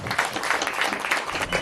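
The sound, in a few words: applause for the members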